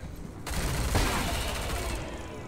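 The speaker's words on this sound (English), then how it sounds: "suppressing fire" Dense suppressing gunfire from the video game Wasteland 3 erupts as a loud, continuous burst of rapid shots. It sustains for about two seconds over a low rumble.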